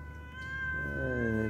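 A cat gives one drawn-out, rising meow, loud and close, ending in a long wavering yowl.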